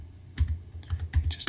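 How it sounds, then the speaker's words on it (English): Quick bursts of keystrokes on a Raspberry Pi 400 keyboard, clicking in short uneven clusters, close and clear with no talking. "you can just follow along what I'm typing in"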